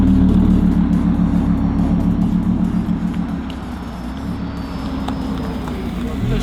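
A car passes by on a street where supercars, including an Audi R8, are doing donuts in Times Square; a steady, loud rumble of traffic with a low engine drone runs throughout, fading slightly midway.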